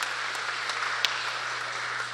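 An audience applauds at the blessing of tarsier rescue vehicles, a soft, distant wash of clapping held steady under a constant low electrical hum, with one sharp louder clap partway through.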